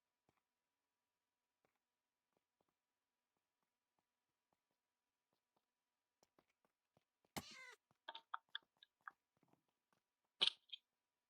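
Cats meowing in a video game, several short meows and mews coming one after another in the second half after a long near-silent stretch with faint ticks, no speech.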